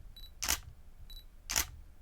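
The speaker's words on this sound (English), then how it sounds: "if you're at a wedding in a church and you don't want that loud clunk of a shutter" Canon 80D DSLR shutter fires twice, about a second apart, each a crisp, fairly damped mechanical click-clack heard up close and alone in a quiet room.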